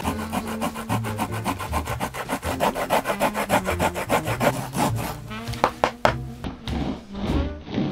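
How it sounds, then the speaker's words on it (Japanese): A hand rasp files a leather shoe sole during bespoke shoemaking, giving a steady rapid run of loud rough scraping strokes that slows into a few separate scrapes and taps near the end. "またヤスリで削っていきます。"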